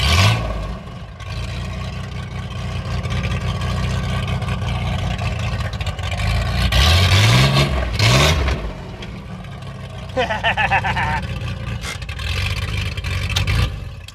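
A loud, rough car engine drones continuously, revving upward in a couple of rising sweeps; the car has a bad power steering leak.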